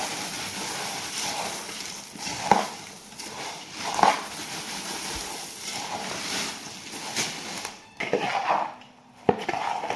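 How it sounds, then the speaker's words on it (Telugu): Puffed rice being stirred into jaggery syrup in a pot, off the stove, for borugu undalu, with repeated dull knocks and scrapes of a spoon against the pot over a rustling background. "ఈ విధంగా మొత్తాన్ని బొరుగులు వేసుకొని కలుపుకోవాలి"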